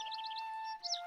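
Baby birds chirp in a cartoon, a quick run of high tweets over a steady tone, then a brief second burst of chirping.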